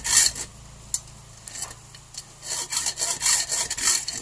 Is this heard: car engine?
no